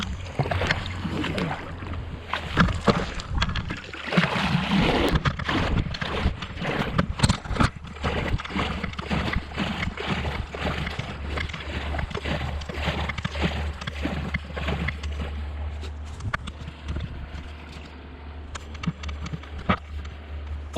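A paddle dips and strokes through water on a winter outing, with repeated soft splashes and knocks at an uneven rhythm over a low steady rumble of wind or current, fairly quiet and close.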